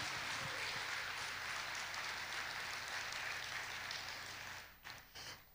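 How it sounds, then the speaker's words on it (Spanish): A church congregation claps in sustained, dense applause during a sermon, a steady roar that fades out near the end. "Dale fuerte ese aplauso"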